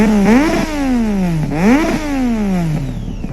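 A Triumph 675 motorcycle engine revs hard twice in quick succession, each time climbing sharply then falling back to a steady idle, loud and close with no talking.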